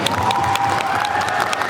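Film promotion audience clapping and cheering, a steady dense wash of applause from a crowd throughout.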